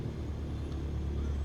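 Aircraft engine held at a steady low throttle in Microsoft Flight Simulator 2020, a continuous droning rumble on a runway at dusk, loud and even throughout with no breaks.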